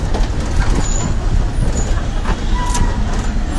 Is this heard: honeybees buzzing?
no